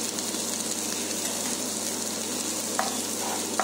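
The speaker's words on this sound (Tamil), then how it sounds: "ஸோ கொஞ்சம் வாட்டர் ஆட் பண்ணிக்கிறேன்." Mushroom masala for a pepper fry sizzles with a steady, close hiss in a pan after a splash of water goes in, with a couple of faint clicks near the end.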